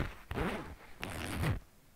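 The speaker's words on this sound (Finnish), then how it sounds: "minä pistin sen heijastimen tähän vetoketjuun" Clothing zipper handled while a reflector is clipped onto it, giving two short, soft rasping pulls close by and quiet, with no talking.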